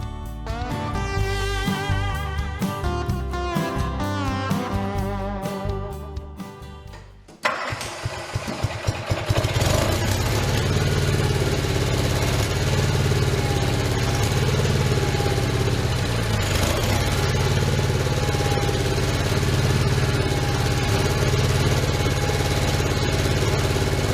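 An OMC Mustang 310 skid steer engine cranks over and catches about a third of the way in, then runs loud and steady with a rough, constant roar to the end, after an opening stretch of steady, tonal, rhythmic sound.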